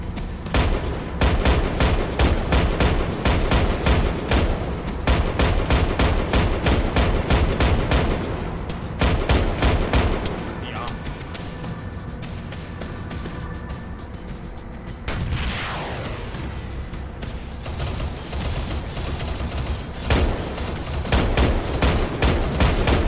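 ARMA 3 custom co-op mission combat: dense, continuous rifle gunfire and rapid machine-gun bursts crackle loudly. Firing eases briefly midway, then resumes in heavy overlapping volleys.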